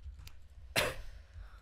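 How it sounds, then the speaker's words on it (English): A single sharp cough sounds near the middle, brief and fairly close, against a quiet low background hum. "Good cough."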